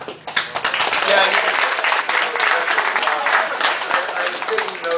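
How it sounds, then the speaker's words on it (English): An audience at a chemical industry CEO roundtable breaks into steady applause after an invited speaker's talk, dense clapping sustained at even loudness for several seconds. "you can have some applause right now"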